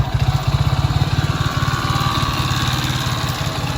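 A small motorcycle engine with a faulty light coil idling close by, steady rapid low putter with a slight uneven pulse throughout.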